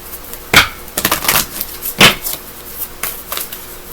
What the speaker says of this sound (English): I'll roll the dice too.